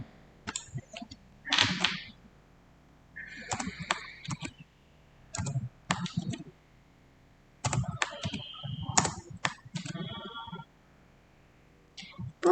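Irregular bursts of clicks and key taps on a computer keyboard while HTML code is copied, sharp close strokes in short clusters separated by pauses, with quiet background hum.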